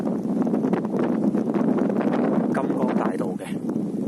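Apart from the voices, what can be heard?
strong wind on a mountain hiking trail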